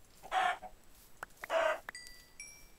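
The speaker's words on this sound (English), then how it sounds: "More chickens." Chickens in the video game Minecraft cluck in two distinct bursts, with small clicks between them and a faint chime afterward, all fairly quiet against a silent background.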